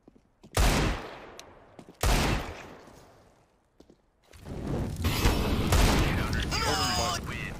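Gunfire in CS:GO: two sharp, loud bursts of shots with short gaps between them, then a longer stretch of dense shooting and game action, with a voice briefly heard near the end.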